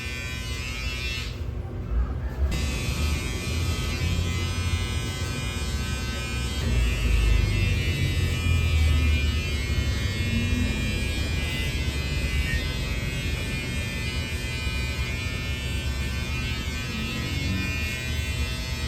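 Electric hair clippers buzz steadily and close up throughout a free haircut, a constant motorized hum with no pauses.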